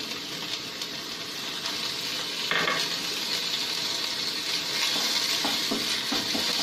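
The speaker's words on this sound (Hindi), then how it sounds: "अब मैं इसके साथ में डाल रही हूँ 6 कली लहसुन और 1/2 इंच अदरक का टुकड़ा जिसे मैंने कूट लिया था।" Crushed garlic and ginger hit a pan of partly cooked onions, giving a steady loud sizzle of frying with stirring scrapes throughout, for a chickpea and spinach curry.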